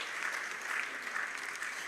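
Audience applause at a Latin America and Caribbean ministerial development forum following a musical performance, a steady wash of many hands clapping throughout, moderately loud and even, with no talk over it.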